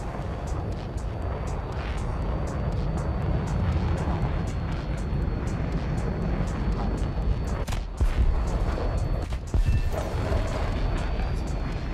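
A World War II fighter plane's engine drones steadily in War Thunder while short sharp bursts of aircraft gunfire crack out near the end; someone talks over it.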